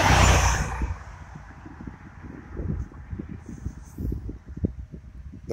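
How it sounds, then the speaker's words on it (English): Traffic on the ABC highway near Coverley, Christ Church, Barbados rumbles past at moderate distance, with a vehicle swelling and fading amid gusty wind noise and rustling. "And the ABC highway is just behind here"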